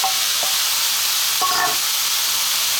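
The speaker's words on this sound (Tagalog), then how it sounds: "i-add na natin yung ating stir fry na beef" Beef and bean sprouts stir-fry in a hot pan with a constant loud sizzle, broken by a couple of brief scraping stirs of the spatula, and no talking.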